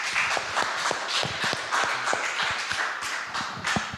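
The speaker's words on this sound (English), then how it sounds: "We'd like to give you, at this point, before we switch to questions from both the hall here and the virtual world, a big round of applause." Audience in a hall clapping after a talk, a sparse scattering of distinct individual claps with irregular rhythm, fairly faint and close, no talk over it.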